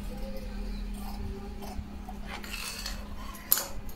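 Scissors cut through blouse fabric with a few crisp snips and light clicks of the blades, close and quiet under a low steady background hum.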